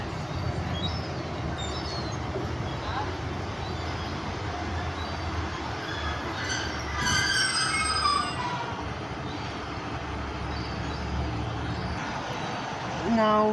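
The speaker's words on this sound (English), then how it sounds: "the 1313 Great Western Railway service from Exmouth to Paignton" A Great Western Railway class 152 diesel passenger train pulls away from Dawlish on the Exmouth to Paignton service, a steady rumbling drone with wheel squeals rising midway, heard at moderate distance with no talk.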